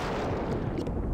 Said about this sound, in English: Like, quite a violent explosion.